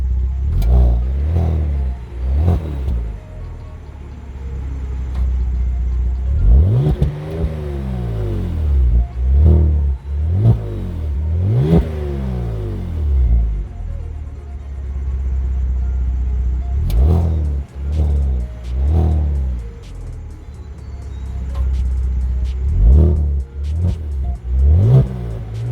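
A 2022 Genesis G70 revs repeatedly at a standstill, its exhaust rising sharply toward about 4,000 RPM and dropping back to a rumbling idle between blips, loud and close.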